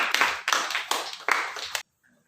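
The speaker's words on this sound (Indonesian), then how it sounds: "tepuk tangan buat abang Soki." A small group at a first-aid training session claps for a participant, a handful of sharp close hand claps in loose bursts over about two seconds, stopping abruptly into near silence.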